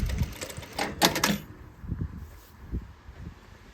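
A sewing machine runs a quick burst of stitching along a regular seam, then pauses and picks up in short bursts to back tack, with a rhythmic mechanical chatter at close range.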